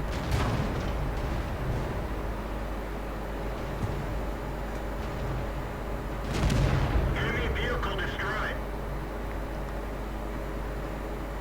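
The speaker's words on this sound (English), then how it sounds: "I can just pop out and then fire." A KV-85 tank's main gun fires in a video game, a single heavy boom standing out midway over a constant low engine rumble, with someone talking throughout.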